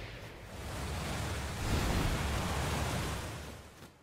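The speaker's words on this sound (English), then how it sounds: "That's some nice water noise" Water waves ambience from the Wuthering Waves video game trailer, a broad washing surf swell that rises and fades over a few seconds, soft and steady with no speech.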